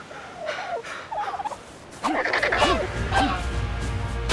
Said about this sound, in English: There is another dodo.